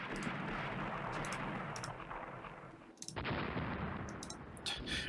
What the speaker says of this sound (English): We're bombarding the coastal battery from a direction it can't get to.